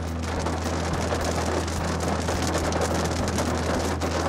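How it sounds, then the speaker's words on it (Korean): Rain drums steadily on a Kia Sportage while it is being driven, a continuous dense patter over a low, constant engine and road hum with no voices. "빗방울이 자꾸 굵은데?"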